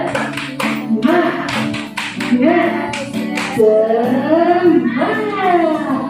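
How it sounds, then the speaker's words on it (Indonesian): A school class claps out a rhythmic spirit clap in quick bursts of sharp, close hand taps, with voices chanting along between and over the claps. "1, 2, 3, tepuk semangat."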